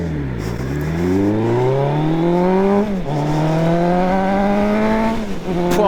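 Suzuki GSX 1200 Café Racer motorcycle pulls hard from a standstill, its engine note climbing steeply through two gear changes with brief dips between, loud and close throughout.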